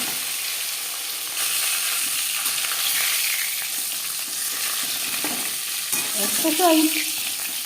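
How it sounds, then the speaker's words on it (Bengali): Bata fish frying in refined oil in a pan, a steady close sizzle with some sputtering and a spatula scrape near the end, a brief spoken remark in the middle. "সবার প্রথমে আমি মাছ ভেজে নেব। আমি রান্নাটা রিফাইন্ড অয়েলে করছি"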